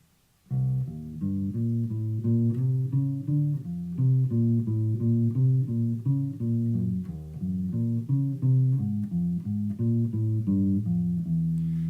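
A steady walking bass line plays over the bridge of a tune, with even plucked notes stepping along in a regular pulse. It is clear and moderately loud, with no talking.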